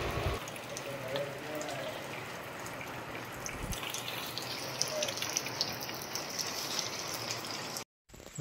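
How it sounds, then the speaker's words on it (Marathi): Monsoon rain falls steadily over a village with a banana orchard and rice paddy fields, a dense, even hiss that continues without a break until it cuts out briefly near the end. "आणि आता पाऊस चालू आहे"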